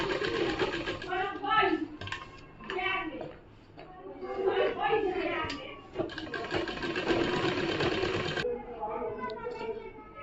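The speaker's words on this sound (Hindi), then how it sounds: "यहाँ मैं टाँका लगाऊंगी।" A sewing machine stitches a kameez in a continuous close, rattling whir, with short pauses and changes in speed as the fabric is guided.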